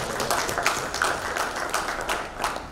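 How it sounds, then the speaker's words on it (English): Audience applause at an Indian education event honouring a team and mentors, a dense steady patter of many hands clapping throughout with no voices over it. "a round of applause"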